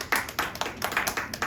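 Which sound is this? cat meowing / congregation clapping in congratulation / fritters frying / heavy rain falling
congregation clapping in congratulation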